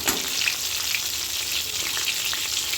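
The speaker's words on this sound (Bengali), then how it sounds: "দেখো পটলটা আমার ভাজা হয়ে গেছে, আর বেশি ভাজবো না" Pointed gourd (potol) frying in a pan, a dense, even hiss of hot oil with faint scattered pops and light stirring, continuous and close with no talk.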